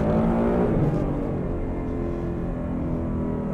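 A 2019 Ford Mustang engine roars loudly and steadily at high revs while launching at a drag strip, a sustained close-up drone with no speech.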